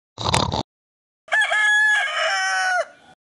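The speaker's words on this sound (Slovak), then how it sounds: "Čo tu robí ten kohút?" A rooster crows once, loud and close beside a bed indoors, a single drawn-out cock-a-doodle-doo following a brief burst of clucking.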